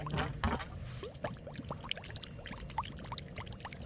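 Continuous gurgling and splashing of water flowing out of a Drummond 1/2 HP non-submersible transfer pump, with bubbly pops and a steady churn throughout.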